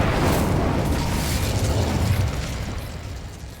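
Incendio, the fire spell in Hogwarts Legacy, roars out as a loud, dense fiery whoosh that holds steady for a few seconds before gradually fading away.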